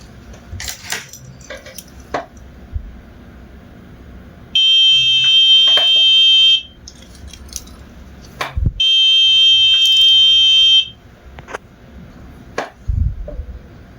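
A device not connected to WiFi sounds two long, shrill electronic alarm tones, each about two seconds, separated by a pause, amid clattering, clinking handling noises nearby.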